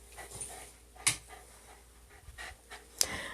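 A dog pants quickly and softly close by indoors, steady rhythmic breaths interrupted by a couple of sharp clicks or taps.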